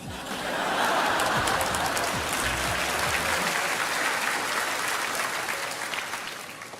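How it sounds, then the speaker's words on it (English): A church congregation breaks into sustained, loud applause, a thick even roar of clapping with a few low voices and laughter mixed in, fading slightly near the end. "Keep clapping."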